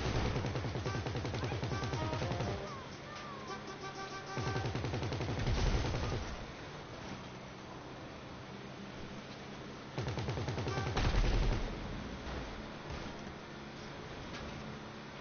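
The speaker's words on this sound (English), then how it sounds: "I better stop shooting, we'll get cops on us." The roof-mounted 50mm gun on an Insurgent armored vehicle in GTA fires in long, rapid automatic bursts, loud and close, with pauses between strings of shots and no talk.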